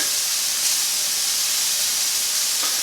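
Minced garlic hits a hot pan with a steady, bright sizzling hiss that holds evenly throughout, close up and without any voices.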